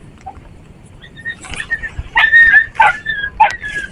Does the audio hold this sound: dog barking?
yes